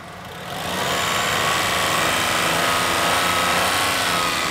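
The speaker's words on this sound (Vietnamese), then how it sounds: "Rồi bây giờ em sẽ mồi ga cho ông ta nghe về tiếng động cơ của xe này." Chevrolet Spark small city car engine revved, fading in and then holding a steady, close, even idle-like rumble throughout with no other sounds.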